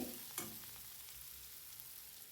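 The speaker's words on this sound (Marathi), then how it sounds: "लाल तिखट पण आपल्याला तेलावर छान परतून घ्यायचे" Red chilli powder sautéing in oil in a pan gives a faint, steady low sizzle with one brief scrape of a spoon near the start, quiet and close, with no talking.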